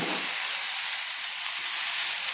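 Spices and vegetables, including gourd stems for a Bengali fish curry, are stirred together in a frying pan, producing a steady, even sizzle with a slight bump in the first moment.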